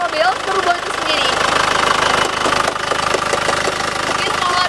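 A 2015 Isuzu Panther Touring car's engine runs steadily at idle, a continuous mid-pitched drone with a faint knocking pulse, while someone talks over it close by.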